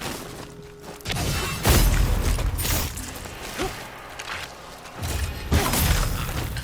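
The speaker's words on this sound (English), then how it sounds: "Alright, wait for that explosion." A blind bomb goes off in the Ghost of Yotei stealth game: heavy crashing booms near the two-second and five-second marks, with rumbling, whooshing game sounds between them and no talking.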